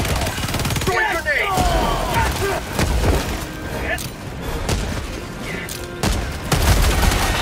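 Heavy gunfire and a grenade explosion in Helldivers 2, with rapid bursts of shots and a deep boom, loud and continuous under voices talking.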